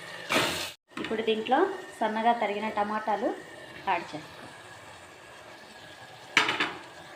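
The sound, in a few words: frying chopped tomatoes in a pan for egg curry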